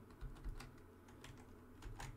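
Computer keyboard typing, a quick run of light key clicks tapped out in short bursts, close and fairly quiet, with no voices.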